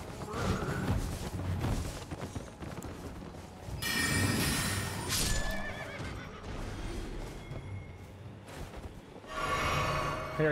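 A horse in the video game Elden Ring lets out several loud whinnies and snorts, mixed with hoof clops and thuds, spread across the clip in separate outbursts.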